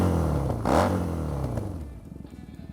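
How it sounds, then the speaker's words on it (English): A motorcycle with a custom stainless steel exhaust revs hard once, its very loud throaty exhaust rising then settling back into a rumbling idle close by. "there's some custom exhaust that we built all out of stainless. It's really, really damn loud"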